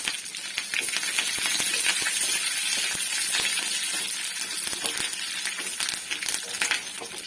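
Cut chilli and curry leaves dropped into hot oil for tempering a pulissery crackle and spit densely and continuously, with many sharp pops over a constant sizzle, close and fairly loud.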